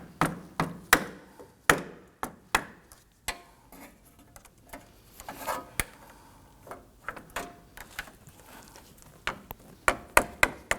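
A notched flathead screwdriver tapped against a metal radiator hose clamp on a 2003-2014 Volvo XC90 3.2L inline-six, a series of sharp metallic clicks and knocks in irregular bursts, close and fairly loud.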